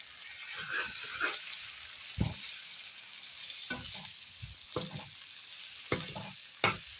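Tomatoes and achari masala being stirred in a pan for Hyderabadi achari bhindi, with a steady soft sizzle of frying and several brief scraping stir strokes, close by, no talking.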